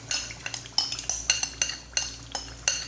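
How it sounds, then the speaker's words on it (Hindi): Marinated mutton going into oil in a karahi and being stirred: a close, regular series of metallic scrapes and clinks of a utensil against the pan, roughly every half second, with no talking. "जो ऑयल है उसी ऑयल में मैं जो मैरिनेशन वो हमारा गोश्त था, मटन था, वो इसके अंदर शामिल कर देंगे"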